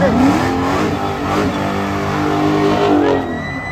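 A car revs hard during a burnout at a legal pit event, its engine note rising and sweeping in pitch while the tyres spin, loud and close under a steady roar with no clear speech.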